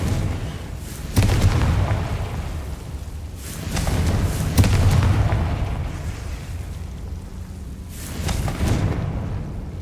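Confringo fire-spell blasts in the Hogwarts Legacy video game, heavy booming explosions recurring every few seconds over a rumbling game soundscape, loud and close, with no talk.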